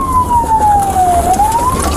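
A police car's siren wails loud and close during a high-speed pursuit, one long falling sweep that turns and climbs again, over the low rumble of the engine.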